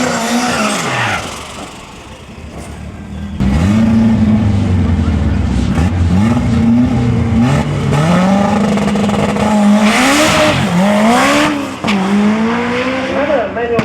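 A Datsun with a manual gearbox launches and accelerates hard down a 400-metre drag strip, its loud engine rising through several gear changes, each shift dropping the pitch before it climbs again, with a commentator talking over the run.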